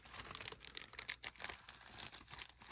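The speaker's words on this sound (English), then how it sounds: "it's like these plastic bags that come over the top and over them" Plastic bags for storing boxed action figures crinkle and rustle close by in irregular bursts as they are handled, fairly quiet, with no voices.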